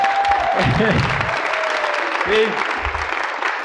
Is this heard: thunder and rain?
no